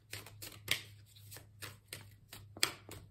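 Oracle cards are handled and drawn from a deck, a series of crisp papery flicks and slides in an irregular rhythm, close and fairly quiet.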